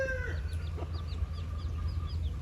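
Hen with her white chicks in a chicken coop, a run of soft high peeping from the chicks over a low steady hum, with a few faint clucks, no talk.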